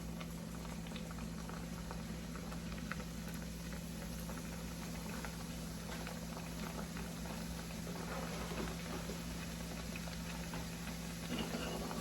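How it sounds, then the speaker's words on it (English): Flattened plantains deep-frying in hot oil for a Puerto Rican jibarito, giving a steady, dense bubbling hiss with a low hum beneath, continuous and even throughout with no talking. "So our oil is still nice and hot, and basically you're just going to cook your plantains."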